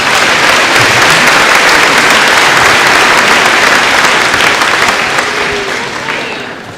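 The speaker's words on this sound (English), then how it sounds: "Let's give her a round of applause." A loud, close crowd applauds at a Cloverleaf high school graduation ceremony, thick, continuous clapping that stays strong for several seconds and then gradually fades.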